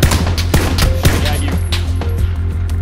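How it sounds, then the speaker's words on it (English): Rapid gunfire from a weapon in the video game PUBG cracks in a quick burst of several sharp shots, loud and close, with a few scattered follow-up reports. "I'm gonna shoot him"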